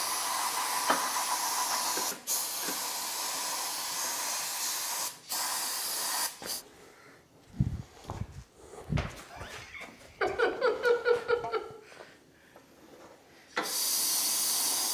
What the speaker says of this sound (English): I'm gonna use 2 or 3 cans of cleaner to do this to make sure that all the oil residue in the areas where I'm welding has been removed